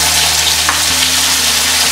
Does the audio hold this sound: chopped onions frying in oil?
yes